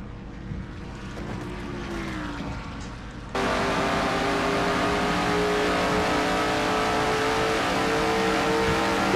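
A race car in a racing video game laps Watkins Glen in third gear at about 88 mph. Its high, steady engine drone jumps noticeably louder partway through and then holds strong to the end, with no talk.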